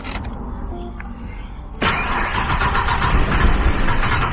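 A 30-year-old Ford Explorer, long unserviced, cranks briefly and then catches, its engine settling into a loud, steady running roar close to the microphone.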